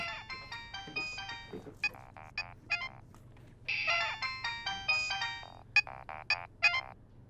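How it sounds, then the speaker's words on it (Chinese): A mobile phone ringtone plays in short repeating electronic melodic bursts with brief gaps, fairly quiet over a low steady indoor hum, no voices. "我接个电话。"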